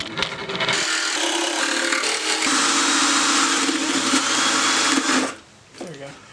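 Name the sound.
jigsaw cutting wood for a custom mini guitar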